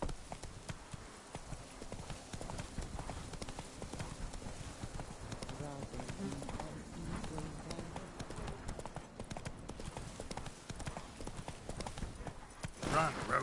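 A horse gallops in The Witcher 3, hooves clip-clopping in a quick steady rhythm for the whole stretch, with a player's voice speaking over the game sound.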